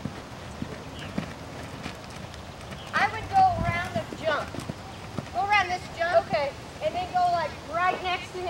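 A horse's hooves clip-clop at a trot during a riding lesson, a soft rhythmic beat that stays mostly under an instructor's frequent talking.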